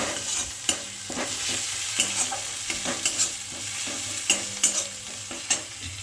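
Spice paste for raw prawns frying in a pan while being stirred, a continuous sizzle broken by repeated sharp scrapes and clacks of the spoon against the pan.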